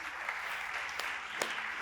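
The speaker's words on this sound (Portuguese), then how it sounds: "Você pode aplaudir o Senhor por isso?" Church congregation applauding during a sermon, a steady wash of clapping at moderate distance with a few sharper individual claps standing out near the end.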